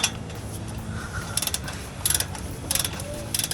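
A torque wrench tightens exhaust bracket bolts to 45 foot-pounds on a 2015-2021 Dodge Challenger 3.6L V6 cat-back exhaust install, with several short bursts of ratcheting clicks over mechanical background noise.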